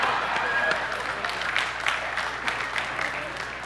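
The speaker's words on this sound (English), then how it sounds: "Can we have a round of applause for him?" A church congregation breaks into steady applause, dense overlapping claps at a constant level with faint voices mixed in.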